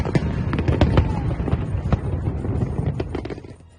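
Firework bursts crackle and pop in dense, irregular succession, a rolling barrage of sharp cracks and thuds that holds steady and then thins and fades toward the end.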